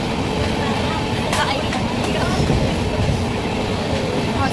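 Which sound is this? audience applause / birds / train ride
train ride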